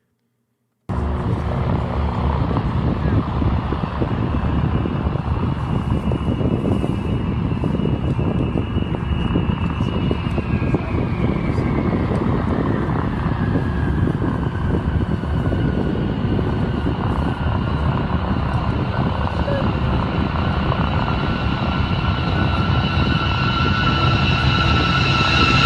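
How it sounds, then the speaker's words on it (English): A B-52 bomber flying in, a loud continuous jet roar that rises in and stays dense, with a descending whine as it passes overhead; no voices. "this is a B-52 coming in"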